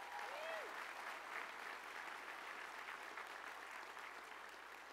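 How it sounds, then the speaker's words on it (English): Audience at a new student and family convocation ceremony at Sacramento State applauds in a continuous, even wash of many hands clapping, steady and somewhat distant throughout. "Give yourself a round of applause."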